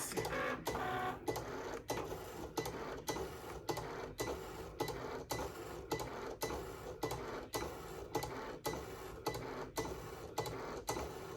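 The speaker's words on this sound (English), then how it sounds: "Cricut is, while the sheet is still in there, I didn't unload nothing, is going to cut some more lines" A Cricut Explorer Air 2 cutting machine cuts calibration lines on a loaded sheet, giving a steady, close mechanical whirring broken by regular clicking carriage movements roughly every half second, continuous throughout.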